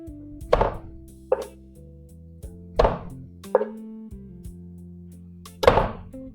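Garlic is chopped with a knife on a cutting board. About six sharp, hollow thunks land at uneven intervals, close and distinct, with quiet gaps between them and no speech.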